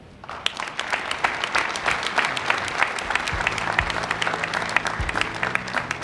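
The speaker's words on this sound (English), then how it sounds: "One more big round of applause for our promotees and honorees." Sustained applause from an audience at a police department proclamations and promotions ceremony honoring promotees and honorees, dense steady clapping throughout with a few low hum tones entering midway.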